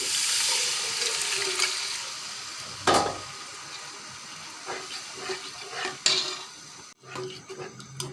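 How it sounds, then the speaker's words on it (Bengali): A potato liquid mixture is poured into spices frying for alu ghati, with pan clatter, utensil scrapes and sizzling that rises and falls, close and without talk. "এরকম যখন মশলা থেকে তেল উঠে আসবে তখন আলুর লিকুইড মিশ্রণগুলো ঢেলে দিব।"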